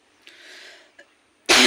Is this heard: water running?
no